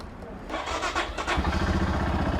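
A motorcycle engine is kick- or self-started outdoors on a dewy morning in the Uttarakhand hills, first cranking for a moment, then catching into a loud, steady, throbbing idle close by, with a voice briefly audible.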